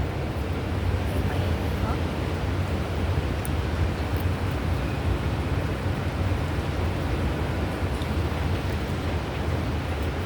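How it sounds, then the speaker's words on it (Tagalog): Strong, steady Signal No. 10 typhoon wind roars and buffets continuously, a dense rushing noise with low rumbling gusts, loud and unbroken throughout. "Ramdam yung lakas ng hangin, no?"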